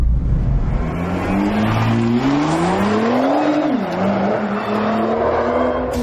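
A 2017 Nissan GT-R Nismo driven fast around a racetrack, its engine droning loud and close as revs climb steadily, dip briefly, then rise again, with faint tire noise beneath the continuous roar.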